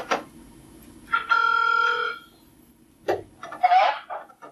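A telephone rings through a speakerphone in repeated electronic bursts with short pauses between them, clear and fairly close, with no one talking over it.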